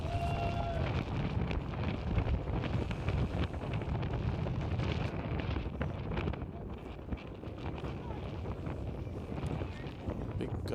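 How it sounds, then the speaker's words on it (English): A strong gust of wind buffets the microphone at an outdoor baseball game, a loud, steady low rumble filling the whole stretch with faint crowd and field sounds underneath. "Big gust of wind there."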